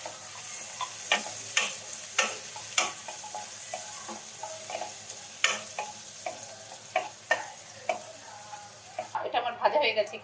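Whole almonds and raisins fry in a pan under a soft sizzle, with sharp, irregular scrapes and clicks of stirring breaking through and a busier burst near the end.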